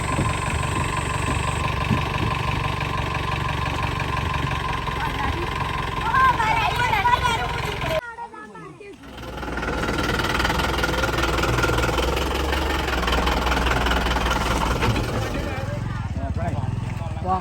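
A motorcycle engine hums steadily while the bike is ridden, a close continuous drone with people talking over it. The engine dips briefly partway through, then carries on.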